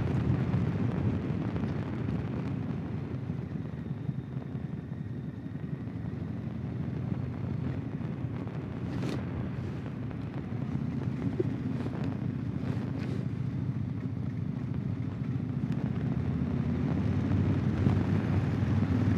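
A motorcycle rides along an old country road in Ohio, wind roaring steadily across the microphone over a low engine drone, with a few brief gusty thumps.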